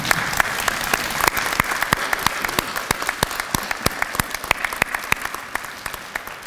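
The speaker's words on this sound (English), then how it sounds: "give your family and friends a round of applause" Loud, steady applause from an audience of family and friends at a nursing candlelighting ceremony, with dense overlapping claps and a few sharper individual claps standing out close by.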